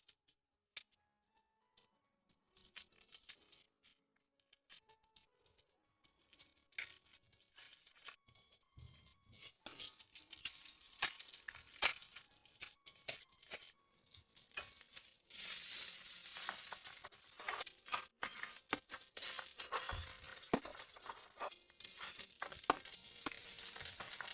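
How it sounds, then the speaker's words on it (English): Steady hot sizzling and frying crackle from a hot pot with steam, building louder after the first few seconds and continuing with dense spitting and bubbling, in a freezing blizzard. "It was already sizzling and steaming."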